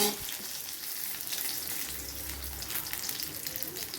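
Potatoes dropped into hot oil with fenugreek seeds and Bengali five-spice, a dense continuous sizzle and hiss close up, fairly loud and steady from start to finish with no speech.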